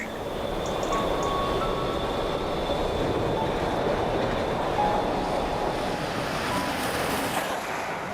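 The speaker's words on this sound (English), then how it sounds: "Fast train approaching." A fast steam train roars past close by through a station without stopping, a steady rushing rumble with rail noise holding loud throughout.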